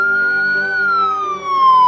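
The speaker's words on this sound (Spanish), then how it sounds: "¿Te has preguntado qué significa el sonido de una ambulancia?" Ambulance siren in the slow wailing tone used on long highway and expressway runs, loud and close, a single steady rising-and-falling tone that sweeps gradually downward across two seconds.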